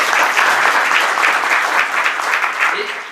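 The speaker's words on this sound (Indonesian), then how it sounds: "kita beri aplaus ya." Audience applause at an Indonesian health presentation, a dense, steady clapping from a crowd that carries on throughout and tapers slightly at the end, with a faint voice underneath.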